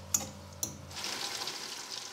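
Zucchini flower fritters frying in a pan: two sharp clicks, then a steady, soft sizzle of hot oil.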